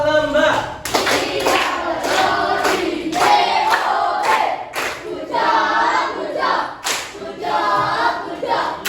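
Schoolchildren in a classroom perform a rhythmic clapping cheer for a group, sharp, patterned bursts of claps that come in regular waves, with young voices chanting along in time.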